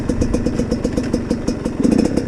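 GPX TSE 250R motorcycle engine running close by with a steady, throbbing mid-pitched beat and light mechanical clatter, a slight rise in revs near the end, no voices over it.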